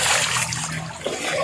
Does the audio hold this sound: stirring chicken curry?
no